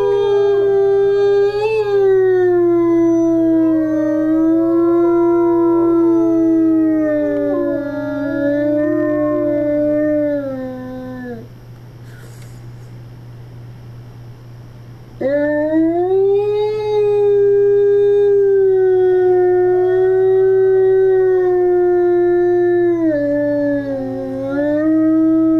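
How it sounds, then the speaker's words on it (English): A wolf's long, mournful howl rises and wavers, pauses for a few seconds of quiet, then resumes, loud and close with a steady low hum beneath. "Grizzer laid and howled until Oscar came back"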